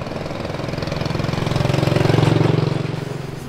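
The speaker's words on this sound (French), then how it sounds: "on y va en scooter" A scooter engine runs close by with a steady pulsing putter that swells slightly in loudness and then eases, no voices over it.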